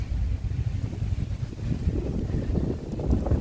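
Strong wind on a seaside promenade in Chornomorsk roars and buffets the microphone in a steady, heavy rumble throughout, with no voices over it.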